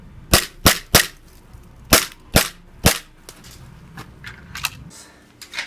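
An airsoft VFC Walther PPQ pistol fires six sharp, loud shots in two quick groups of three, then several fainter clicks and taps follow.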